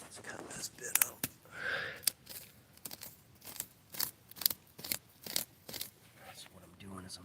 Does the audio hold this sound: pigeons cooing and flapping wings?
no